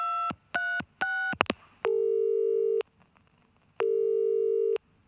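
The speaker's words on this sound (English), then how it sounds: "We should probably get Edouard on the phone." Telephone line tones while a call is being placed: a quick run of short beeps, then two long, loud, steady tones separated by a pause, with no talk.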